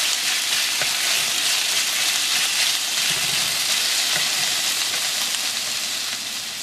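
Pork slices stir-fry in a hot wok with a loud, steady hiss of sizzling oil, constant and close throughout.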